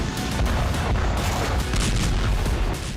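A dense, continuous roar of booming blasts and rumbling at an oil refinery struck by drones, loud and chaotic, like a large explosion with repeated crackling bursts.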